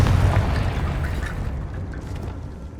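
Confringo blasting spell exploding in Hogwarts Legacy, a single heavy booming burst that starts loud and decays into a rumbling tail, with no talking.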